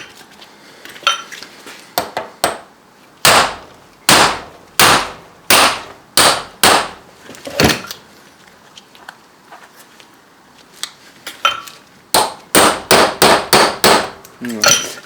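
Sharp metallic hammer blows strike the flat end of a CV joint head in bursts of several hits, then a fast run of rapid strikes, loud and close with short quiet gaps between groups.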